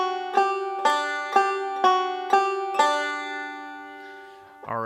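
Banjo picking the opening phrase of the fiddle tune Devil's Dream with a square roll, six bright plucked attacks in an even rhythm ringing out, close and clear, with a final note starting at the end.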